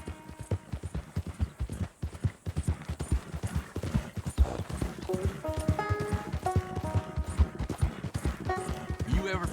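Horse hooves clip-clop in a steady, close trotting rhythm in Red Dead Redemption II, continuous throughout with voices talking over it and tonal music or whinny-like notes rising later.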